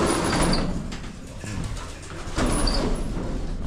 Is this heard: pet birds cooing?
yes